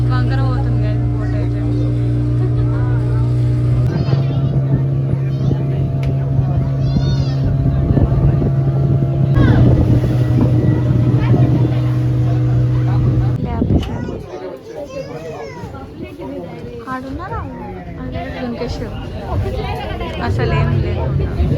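Steady motorboat engine drone on water, loud and close, with people talking over it; the engine note drops away partway through as chatter continues.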